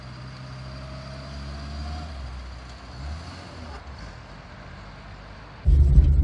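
A 1972 Vauxhall Viva HC drives along with a low, even engine hum heard from inside, until a sudden loud surge of engine noise bursts in at the very end.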